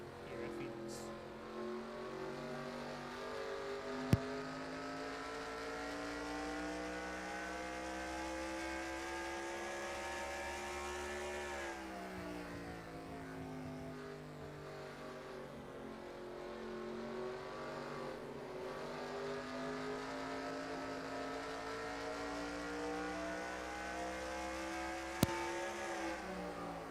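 Stock cars in a FASCAR league race at Phoenix drone steadily, their engine tones dipping and rising together as the pack circles the track, holding a continuous loud roar throughout.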